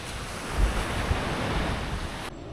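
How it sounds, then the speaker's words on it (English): Atlantic ocean waves wash onto a beach in Puerto Plata, a steady close rush of surf mixed with wind buffeting the microphone, with no voices. "This is a beach in Puerto Plata."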